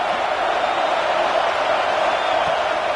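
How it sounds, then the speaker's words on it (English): Stadium crowd roar in College Football 26 at Saban Field on a third down, a steady broadband wash of massed cheering that holds evenly throughout with no talk over it. "The Tide crowd rolling noise down onto Saban Field on 3rd down."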